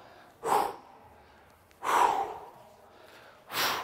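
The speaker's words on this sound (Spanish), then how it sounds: "Fíjate, cojo aire, soplo abajo" Three strong, forceful breaths spaced over a few seconds during a clubbell workout, sharp audible inhales and blown-out exhales close to the microphone, with quiet in between.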